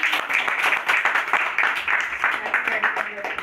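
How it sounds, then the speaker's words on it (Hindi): Scattered hand clapping from a small group at a family wedding anniversary celebration, steady and fairly close for a few seconds, with voices mixed in. "ताली बजाओ कोई"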